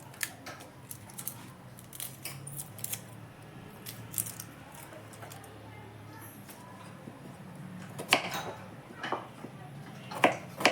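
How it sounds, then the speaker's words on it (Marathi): A small onion being cut on a board for a vegetable dish, faint crisp knife taps and chops scattered through a quiet kitchen, with a sharper run of cuts near the end. "भाजी बनवण्यासाठी छोटा कांदा कापून घेते."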